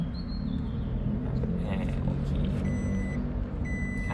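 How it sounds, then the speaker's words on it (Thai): A 2024 Isuzu D-Max in reverse gear sounds its reversing beeper, a few thin, intermittent beeps over the low rumble of the idling pickup. "แล้วเดี๋ยวพี่เดชเข้าเกียร์ว่างนะครับผมเนี่ย แล้วก็เดี๋ยวลองเข้าเกียร์ถอยหลัง"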